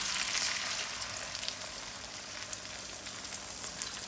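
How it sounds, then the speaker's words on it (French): Hot oil in a wok bursts into a loud crackling sizzle as beaten eggs are poured in, then settles into continuous frying with light pops. "Une fois que l'huile est bien chaude, je verse les œufs."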